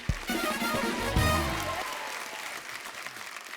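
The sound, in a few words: audience applause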